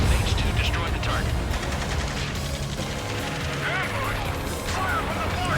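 Sustained enemy gunfire in the Ace Combat 7 video game, with dense rapid bursts and booming impacts from a distant shore battery running throughout under radio chatter and engine noise.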